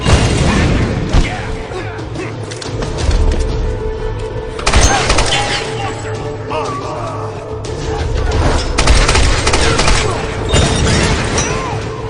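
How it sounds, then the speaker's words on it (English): Machine gun fire in the video game Shadow of the Tomb Raider: loud, dense bursts of rapid shots mixed with crashes and booms, with people shouting in the middle of the chaos. "She has a machine gun!"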